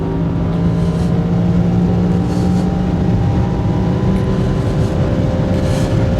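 A BMW M3 accelerating hard on a race track, its engine a loud, continuous in-car roar with climbing harmonic tones, heard steadily at close range without speech.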